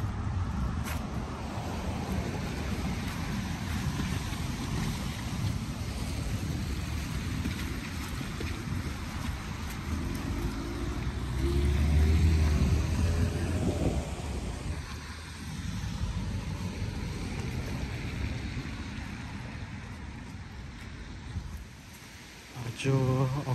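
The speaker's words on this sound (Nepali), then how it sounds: "हिजो रातिदेखि पानी परिराखेको अवस्था हो" Steady wind and rain outdoors in Brampton, Canada, on the day before Halloween, a continuous broadband rush with gusts swelling midway and buffeting on the microphone, no talk.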